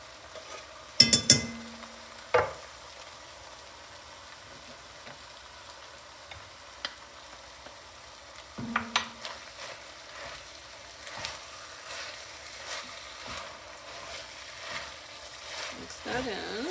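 Refried beans are stirred into ground turkey in a pan on low heat, with scraping spoon strokes and clinks against the pan over a faint, steady sizzle.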